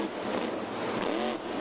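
A Monster Jam monster truck engine revs continuously at an indoor stadium show in Baltimore, a loud, dense roar with throttle surges rising and falling in quick rhythm.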